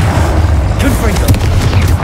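A Confringo fire spell blast in the video game Hogwarts Legacy: deep booms and sharp bursts in a loud, busy fight, with spoken voices layered over the action.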